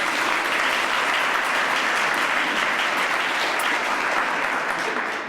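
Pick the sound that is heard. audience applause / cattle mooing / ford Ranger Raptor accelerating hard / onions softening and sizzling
audience applause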